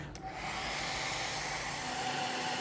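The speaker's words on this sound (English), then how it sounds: "To make a supercritical fluid, we can heat this with a hairdryer, actually." A hair dryer blows with a steady, continuous whooshing whir, close and unchanging after a brief click at the start.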